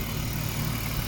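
A BMW E36 2.5i, an inline-six, idles during oil maintenance with a steady low rumble that stays even and continuous at close range, with no talk over it.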